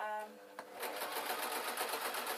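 A domestic sewing machine stitches a bodice seam on a Downton Abbey style dress, starting after a brief pause and then running in a fast, even whirr with rapid needle ticks, fairly close.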